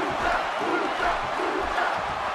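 A large arena crowd at a WWE 2K16 wrestling match roars and cheers in a continuous, surging wave of voices, loud and sustained for the whole moment.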